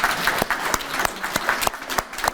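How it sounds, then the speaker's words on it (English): An audience at a school alumni celebration applauds culinary arts students, a steady patter of many hands clapping from a moderately sized crowd, close and continuous throughout. "Please give a round of applause to our culinary arts students."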